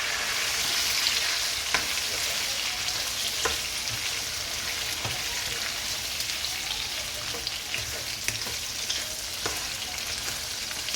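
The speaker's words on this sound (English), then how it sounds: "we're just gonna add all the tomatoes in here" Chopped tomatoes go into a hot pan for chicken karahi, giving a steady dense sizzle with faint crackles and occasional stirring clicks, close and continuous.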